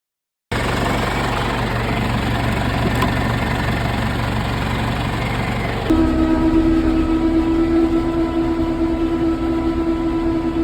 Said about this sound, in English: Got some hay to bale this afternoon, so let's get this baler greased up